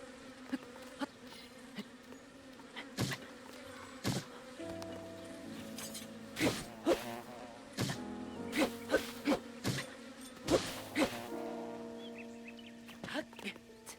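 Bees buzzing in Hateno Village in the video game Zelda: Tears of the Kingdom, faint drones rising and falling under quiet game music and scattered clicks.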